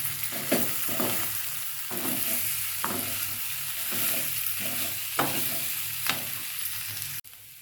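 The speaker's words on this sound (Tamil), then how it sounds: "இப்போ இதை லைட்டாக கலந்து விட்டுடலாம்." Broad beans and egg are stirred in a pan as a Tamil-style poriyal cooks, the spatula scraping in soft repeated strokes over a steady low sizzle, close and fairly quiet.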